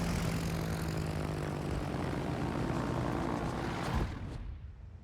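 Aircraft carrier planes fly in World of Warships, a loud, dense propeller engine drone that holds steady and then cuts off abruptly, leaving a fading tail.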